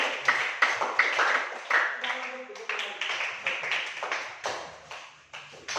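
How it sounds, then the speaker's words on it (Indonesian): Classroom audience claps for a presenting student group, sharp repeated hand claps over ongoing talk. "Ya, beri tepuk tangan dulu untuk kelompok."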